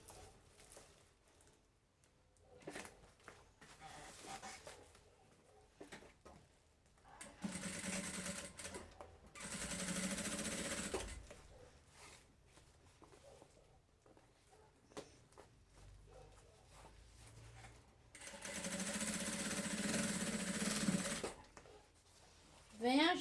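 A sewing machine topstitches the lining of an insulated lunch bag in two sustained runs of motor whir, separated by quieter stretches of fabric handling and small taps.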